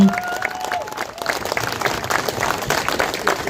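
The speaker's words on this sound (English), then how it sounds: "Give Paul a large round of applause, Paul." Crowd applause and cheering at an outdoor protest rally in Liverpool over farmers and digital ID, steady and fairly loud throughout with a few shouts and whistles mixed into the clapping.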